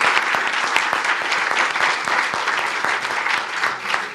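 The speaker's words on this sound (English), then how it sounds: "let's give a big hand to Tieto" A conference audience applauds a sponsor at a customer experience event, a loud, continuous crowd clapping that holds steady throughout.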